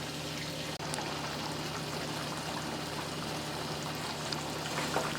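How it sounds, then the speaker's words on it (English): Dry rice grains poured into a cooking pot for meat polao, a steady hissing, trickling pour lasting several seconds with a faint tap near the start, close and moderately loud with no talking. "now I'm gonna add my rice."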